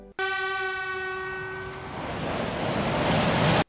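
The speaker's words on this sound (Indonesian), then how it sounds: "teman-teman Shinchan, mereka melanjutkan perjalanan dengan menggunakan kereta." Train in the Crayon Shin-chan Invasion video game: a loud, sustained horn blast that fades into a rising rushing roar of the passing train, then cuts off abruptly, with no talk.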